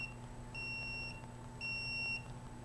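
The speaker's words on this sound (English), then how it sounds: "Notice the intensity of the alarm." A home alarm emits two long, steady high electronic beeps in a row, each lasting about half a second, over a faint constant background hum.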